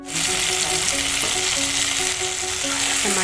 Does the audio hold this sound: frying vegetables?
yes